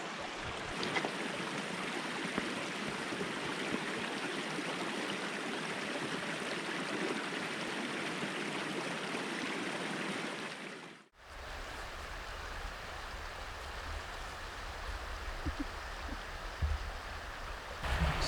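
A river flows in a steady, broadband rush close by at a riverside camp. It stays continuous throughout, with a brief break partway and a quieter, lower-toned stretch after it.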